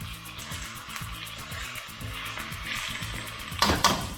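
Nasi goreng rice mixture frying in oil in a pan, a steady close sizzle with stirring scrapes and clatter, the frying swelling louder near the end.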